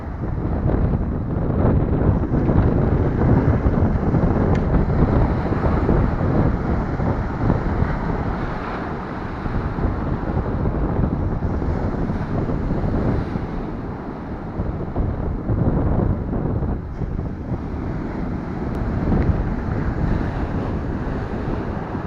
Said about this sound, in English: You can hear the sound of the rocks rolling in the water.